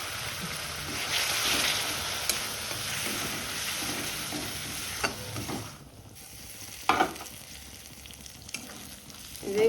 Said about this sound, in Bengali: জল দিয়ে মশলাটাকে খুব ভালো করে কষিয়ে নেব।